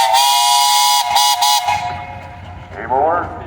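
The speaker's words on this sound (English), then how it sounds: "Ladies, you got a whistle." A steam engine's whistle blows loud and sustained for over a second and a half, then cuts off, leaving crowd murmur and a short voice at a parade of steam engines and threshers.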